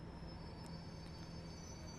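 A Class 37/4 diesel locomotive brakes to a stop in Train Simulator 2021 on the Wherry Lines, with a low rumbling run, faint squealing and a steady hum, quiet and continuous and with no talk over it.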